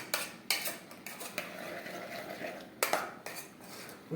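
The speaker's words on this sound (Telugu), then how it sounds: "బాగా కలిపి మూత పెట్టేసి 2 నిమిషాలు" Metal utensils clink against a cooking pot as food is stirred and a lid is set on, several sharp clanks in bursts separated by quieter stretches, close and clear.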